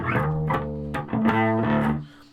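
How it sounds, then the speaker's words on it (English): Bass guitar played through a Blackstar Fly amp's distortion channel, a few sustained, gritty notes ringing one after another with a buzzy edge before fading. "Distortion."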